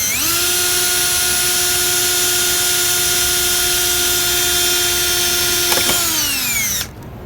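Power drill driving a self-tapping screw during a KC light install on a B2600i 4x4, a loud steady high whine held for several seconds before winding down and stopping.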